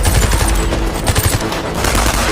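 Loud bursts of rapid automatic gunfire crackle from Nazi soldiers ambushing a group in a war film, dense overlapping shots filling the whole stretch without voices.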